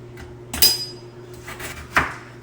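A knife chops through a block of weighed goat milk soap base on a hard surface, giving two sharp, close impacts about a second and a half apart over a low background hum.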